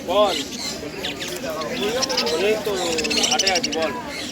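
Caged birds chirp and tweet in quick bursts close by, mixed with someone talking over them in a busy bird market in Naihati.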